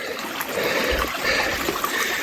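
Creek water trickles softly in a short, faint stretch, a steady wash of gentle flow with small splashes near the middle and no talk.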